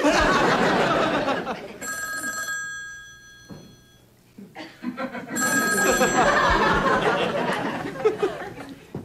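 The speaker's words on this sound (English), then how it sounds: "It's the phone, Jack." A telephone rings with two distinct electronic bursts a few seconds apart, heard indoors in a sitcom scene, with talk and laughter around the rings.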